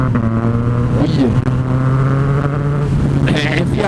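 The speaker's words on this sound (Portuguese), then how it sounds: "E a moto fica mais forte no frio" A motorcycle engine hums with a steady tonal drone and shifts pitch on a brief rev on a freezing-cold morning, with a voice speaking briefly over it near the end.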